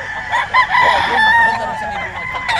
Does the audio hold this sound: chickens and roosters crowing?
yes